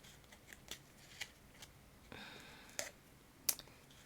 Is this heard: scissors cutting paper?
yes